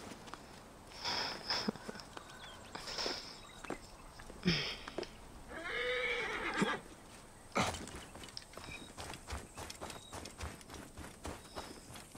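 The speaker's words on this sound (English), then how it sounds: "Alright, poor horse." A horse in the Assassin's Creed Origins video game whinnies around the six-second mark, amid clip-clopping hooves, snorts and scattered game effects, moderately loud and close.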